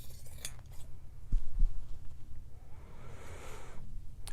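Scissors snip through a T-shirt in a few brief, crisp cuts near the microphone, set against a low steady background hum.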